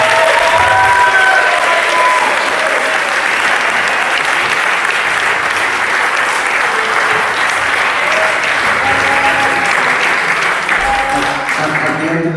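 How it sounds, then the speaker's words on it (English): A large audience claps loudly and continuously at the close of a tabletop gaming tournament event, a dense, steady wash of applause with some voices mixed in. "I think you should all have a clap as well for that."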